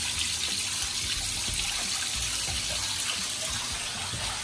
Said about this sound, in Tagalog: Run the bath.